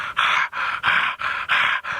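A voice imitates a leopard's harsh, very loud sawing call: six rasping, breathy strokes in a steady back-and-forth rhythm, close and loud, with no other sound around them.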